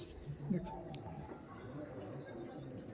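Rock pigeons cooing in a domestic loft, low soft coos near the start with steady background ambience and faint birdsong.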